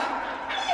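A large dog gives a short bark or yip, brief and fairly close, over a busy indoor background.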